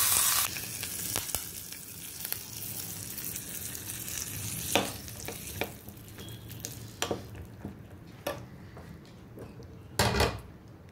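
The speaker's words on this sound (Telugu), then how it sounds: "ఇంగువ, కరివేపాకు కొంచెం పోపులో వేసి పోపు అందులో వేసేసుకోవాలి" A hot tempering of asafoetida and curry leaves for a Konaseema banana-stem curd chutney crackles and hisses continuously, with scattered clinks of a spoon and vessel close by and no talking.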